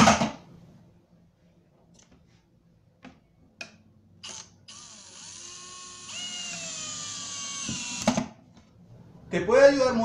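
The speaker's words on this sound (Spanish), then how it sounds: "Sujetamos firmemente e ingresamos el primer tornillo." A power drill drives screws into a melamine auxiliary cabinet, a whirring motor that revs up and holds with rising pitch, starting gently then pressing harder, with brief clicks and handling noises around it.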